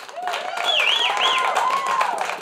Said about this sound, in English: Round of applause if you don't have kids.